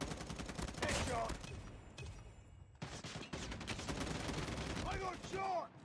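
Rapid bursts of automatic gunfire from a shooter video game crackle close and loud in uneven volleys, broken by a short lull, with game voice chatter and electronic alert sounds near the end.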